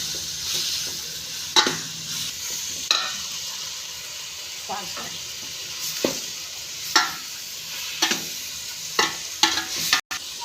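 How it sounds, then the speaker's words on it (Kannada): Tomatoes are stirred into a large pan of frying vegetable palya made for 60-70 people, a steady sizzle broken by repeated scraping stirs and occasional spoon knocks. "ಇಷ್ಟು ಟೊಮೊಟೊ ಹಾಕ್ತಾ ಇದ್ದೀನಿ"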